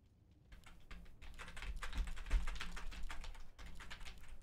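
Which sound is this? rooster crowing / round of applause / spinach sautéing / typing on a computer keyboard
typing on a computer keyboard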